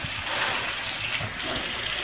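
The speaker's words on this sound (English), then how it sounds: "now I'm going to just rinse them a little bit with water" Water runs over raw, unsalted cashews in a strainer, a close, steady rinsing hiss and splash for a couple of seconds.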